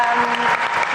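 Applause from a large conference audience at a plenary session honoring Jewish student leaders, a steady dense clapping that fills the whole moment without letup.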